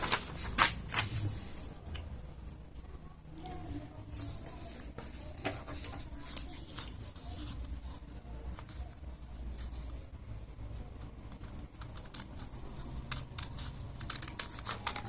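Scissors cut out a paper Ghostface Halloween mask, a quiet, close, uneven stream of small snips and paper rustles and crinkles that continues for about fifteen seconds without speech.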